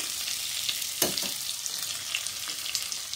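Boiled potatoes frying in oil in a pan for egg curry, a constant bright sizzle with a few louder stirring clicks and spatters, close and alone without talk.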